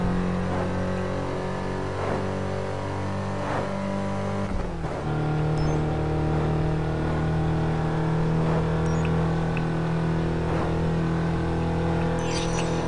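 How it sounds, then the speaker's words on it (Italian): A car engine in Test Drive Unlimited 2 runs loud and continuous, shifting to a slightly lower pitch partway through and then holding a steady drone, with no one talking. "Vi faccio vedere la potenza di questa macchina."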